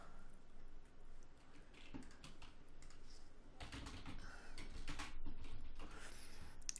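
Quiet, close clicks of computer keyboard keys being tapped in short irregular bursts while working in Lightroom, with soft clatter against low room noise.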